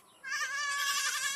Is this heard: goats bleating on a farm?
yes